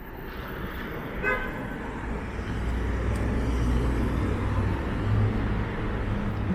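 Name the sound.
street traffic with car horns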